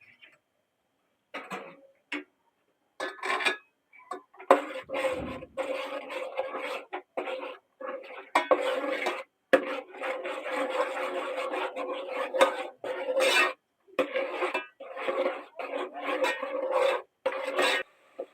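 Garlic potato spice masala mixed by hand in a bowl, with rasping, rubbing scrapes coming in uneven bursts, close up and moderately loud, with short pauses between strokes.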